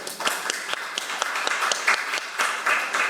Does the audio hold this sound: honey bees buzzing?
no